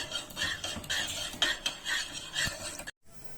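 A spoon stirs sugared mughat in a pot, scraping and clinking against the sides in a quick repeating rhythm, close and fairly quiet, with no voices, then cutting off briefly near the end.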